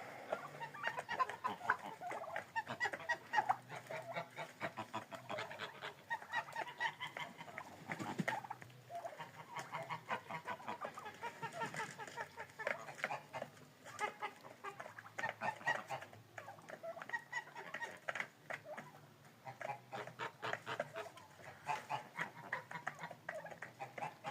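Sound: flock of turkeys

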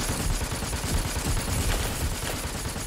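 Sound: gunfire in video game Super People

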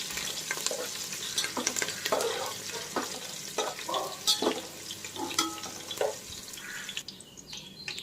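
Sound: green chillies frying in oil for chivda

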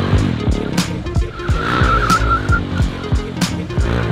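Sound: motorcycle drifting, rear tire sliding

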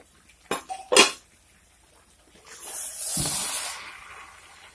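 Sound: stirring vegetables in a pot for niramish labra

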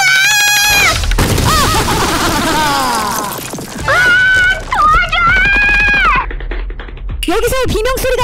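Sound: screaming in an animation

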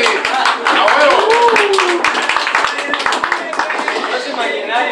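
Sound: audience applause

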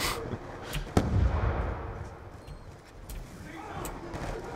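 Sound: concussion grenade going off in Black Ops 2 video game

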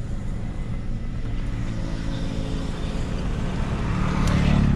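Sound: motorbike passing by on the road

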